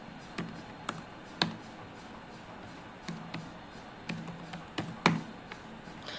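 A name is typed on a computer keyboard: scattered, sharp keystroke taps in small bursts with short pauses between them, close and clear over a faint background hiss.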